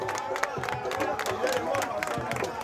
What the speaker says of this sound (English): let's do one very big round of applause for the legendary baby jet